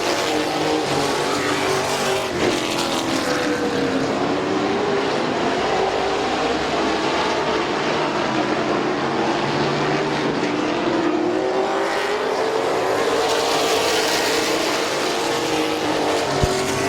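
Race cars roar around the oval at Midvale Speedway, a dense, continuous engine drone with shifting pitch as the pack passes, loud and steady throughout.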